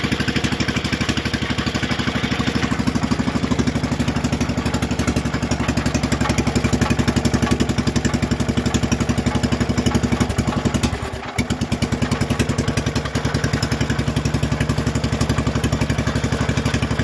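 A 1973 Wheel Horse 8hp four-speed garden tractor engine runs on low throttle, a steady, close, chugging mechanical drone with a constant rhythm throughout and a brief dip near the end.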